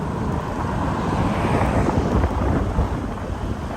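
Heavy rain pours down steadily and loudly during a thunderstorm at a market in Laos, with a dense, continuous roar and a low rumbling swell throughout.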